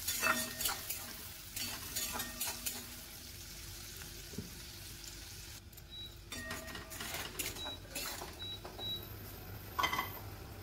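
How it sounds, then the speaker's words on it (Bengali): Chopped onion for palak paneer is stir-fried in a pan, a steady low sizzle under repeated scrapes and clinks of a spoon against the metal, with no voices. "পেঁয়াজটা হালকা করে ভেজে নিতে হবে।"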